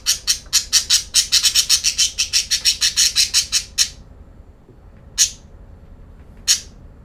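A parrot squawks loudly and close by in a rapid run of about twenty harsh calls, then lets out two more single squawks after a pause, over a low steady background hum.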